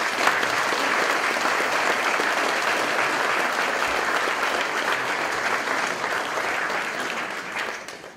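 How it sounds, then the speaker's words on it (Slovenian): Dense, steady applause fills a packed hall at a charity concert, sustained evenly for about eight seconds before trailing off at the end. "Zato prosim tudi en velik aplavz za njega."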